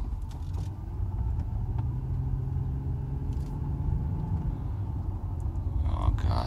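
A Mercedes rolls slowly along a narrow street, its low engine rumble and road noise continuous, with faint knocks and thuds from the suspension over potholes and no talking.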